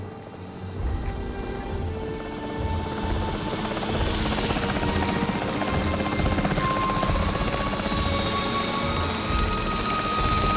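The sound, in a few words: capture team helicopter in the video game Jurassic World Evolution 3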